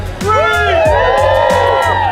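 A race crowd at the start of the Catalina Island Eco Half Trail Marathon whoops and cheers loudly and close, with rising shouts and excited voices overlapping through the whole burst.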